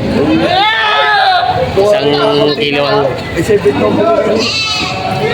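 Goats bleat at a livestock market in Padre Garcia, Batangas, several loud, wavering cries close by, one after another, while people talk in the background.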